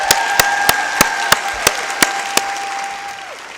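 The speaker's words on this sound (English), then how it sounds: "Give her a round of applause" Audience applause at the opening plenary of a conference: a steady wash of crowd clapping with sharp, evenly spaced claps standing out close by, a faint steady tone underneath, tapering off toward the end.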